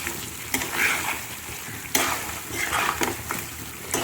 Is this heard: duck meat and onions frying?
yes